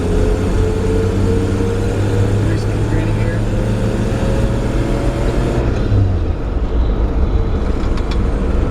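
An all-original, matching-numbers 1954 Chevrolet 3100 shortbed pickup with a granny-gear four-speed rolls on, its engine droning steadily with a rising whine that drops as it changes gear, close and continuous.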